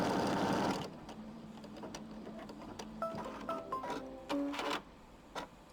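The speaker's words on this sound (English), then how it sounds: "we're going to sew, it's going to sew along this side" A home embroidery machine stitches a line along a green fabric piece, producing a rapid mechanical whirring with tapping needle pulses and short rising motor tones, starting after a brief burst of noise, close and fairly quiet.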